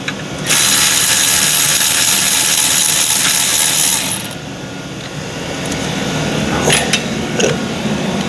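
A Milwaukee power tool whirs loudly and steadily close by for several seconds, then cuts off. A quieter mechanical hum and a few clicks follow in a workshop setting.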